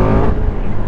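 A KTM 1290 Super Duke GT 2019 motorcycle engine revs close by, a loud, dense roar that holds steady through a brief moment.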